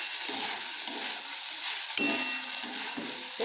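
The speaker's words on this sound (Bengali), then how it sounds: "এবার হিট বাড়িয়ে এটাকে ভালোভাবে একটু ভেজে নেব।" Red amaranth greens fry on raised heat in a pan, producing a bright, steady sizzle close up with a couple of brief stirring knocks, lasting a few seconds without talk.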